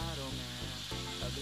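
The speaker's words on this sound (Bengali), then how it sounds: "দিয়ে এটাকে ভালো করে নাড়াচাড়া করবো। এই নাড়াচাড়া করে নিলাম," Vegetables and rice fry in a pan with a steady sizzle while being stirred, a voice talking over the cooking throughout.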